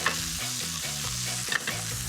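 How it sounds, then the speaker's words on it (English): Spinach sautéing over pine nuts in a hot pan, a steady loud sizzle with repeated stirring scrapes and utensil knocks, no voices. "There's so much more flavour in spinach when you saute it"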